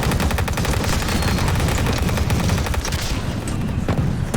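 Tank guns firing in the Total Tank Simulator war game, set on the road to Tobruk, produce a loud, dense barrage of rapid reports that rattles almost without pause across the whole stretch.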